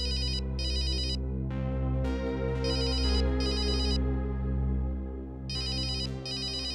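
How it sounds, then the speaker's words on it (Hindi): A mobile phone ringtone plays in a home scene, repeated bursts of bright electronic chimes over a steady musical tone, fairly close and continuing for several seconds. "तेरा फोन है।"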